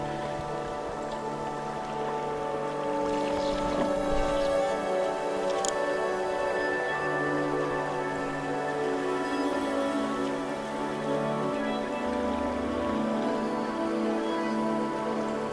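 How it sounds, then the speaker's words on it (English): Steady rain patters across the Uonuma River in Niigata, Japan in a constant hiss, with a few brighter drips and a faint low rumble underneath. "It started to rain."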